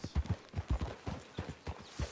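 Horse hooves clip-clop in a steady, quick rhythm in Red Dead Redemption 2, about a dozen close, distinct thuds on a hard path with no talk over them.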